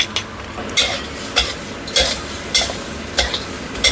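Shrimp is stir-fried with Chinese wine in a hot pan, with a metal spatula scraping and tossing in a regular rhythm about every half second over a steady background sizzle.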